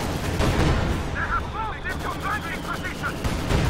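Dense battle din in Company of Heroes 2, a grenade blast among rolling artillery and gunfire booms, loud and continuous for several seconds with a commentator talking over it.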